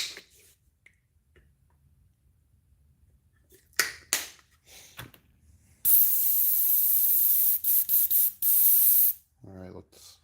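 A paint sprayer spraying cleaner with loud, close hissing bursts, one long and several short. Soft clicks and handling noises come before the bursts, and a voice murmurs briefly at the end.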